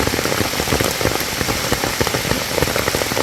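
Steady rain pattering on leaves and ground during mushroom foraging in a Thai forest, a dense, even hiss with scattered close drops throughout and no talk.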